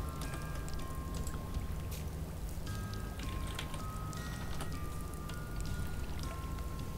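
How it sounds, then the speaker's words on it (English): Ambient water in the Worms: Revolution video game, a quiet steady wash like rain or lapping water, with faint tonal game sounds drifting over it. "Just the ambient sound of water."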